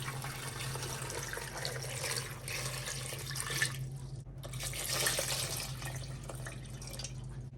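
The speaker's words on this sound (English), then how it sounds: "just go in with about 1 liter of water" About a liter of water poured into a pot over plantain in a kitchen, a steady splashing stream with dripping, briefly breaking off then resuming, over a constant low hum.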